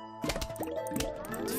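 Several quick, close watery plops from Plants vs Zombies in Brutal Mode, bubbly drips tumbling one after another against a soft steady game background.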